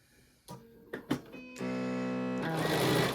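A sewing machine fitted with a quarter-inch foot starts up: a few short clunks and whirs, then a steady close mechanical hum of continuous stitching that speeds up slightly near the end.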